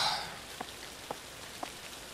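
Heavy rain in the video game The Caregiver, a steady soft hiss of rainfall at low volume, with a few faint, isolated drip-like taps spaced through it.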